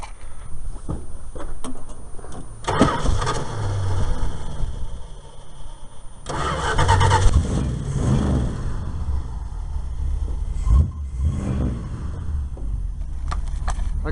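A Dodge Dart engine cranks and fires up in bursts, a couple of short attempts before catching and idling with a rough, mid-pitched rumble and occasional revs.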